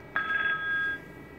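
An incoming call rings on a Cisco SPA IP phone in an office system, a single short electronic ring burst of steady tones, clear and close, with no talking over it.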